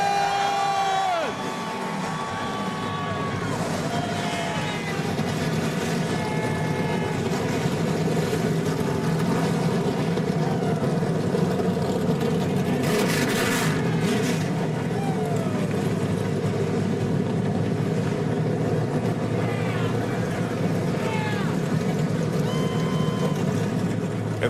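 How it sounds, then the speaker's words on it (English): Dirt track race car engines fire up together at Eldora Speedway for the Mudsummer Classic: a loud, dense, continuous roar of many engines, with crowd noise and an announcer's voice beneath. "And the engines have fired"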